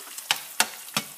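An egg sizzles as it fries on a hot grill while fried rice is being cooked, giving a steady close crackle broken by three sharp, evenly spaced pops.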